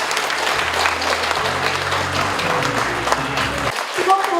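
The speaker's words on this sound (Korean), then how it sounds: "고마운 박수를 올립니다" Audience applause at a Korean novel's book launch, steady dense clapping from a seated crowd with a voice speaking over it near the end.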